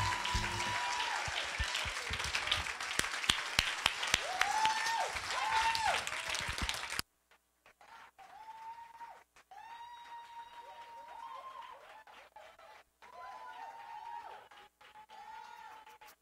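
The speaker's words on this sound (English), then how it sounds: "Clap your hands for our senior pastor amen." Church congregation applauding their senior pastor and founder at a Sunday worship service, a loud sustained burst of clapping and crowd noise for about seven seconds, then fainter scattered claps and voices with organ-like tones.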